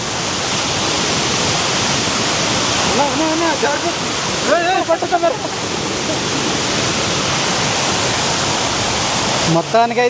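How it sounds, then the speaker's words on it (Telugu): A loud, roaring rush of falling water fills the scene continuously, with brief voices shouting faintly over the constant torrent. "వాటర్ ఫాల్ ఒక్కసారిగా పైకి చూడండి ఎలా ఉందో చూడండి"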